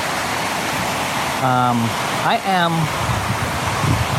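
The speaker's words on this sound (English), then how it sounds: "If you hear running water, I'm just letting it all go right now." Outdoor water fountain running steadily, a loud, continuous wash of splashing water close by, with a brief tonal sound rising over it partway through.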